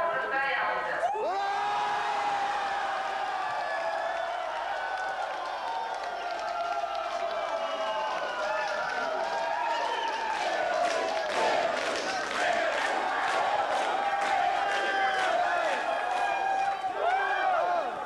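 A large crowd cheering loudly and continuously after a 100-way skydiving formation record in Stupino, Russia in 2003, with whoops, shouting voices and scattered clapping.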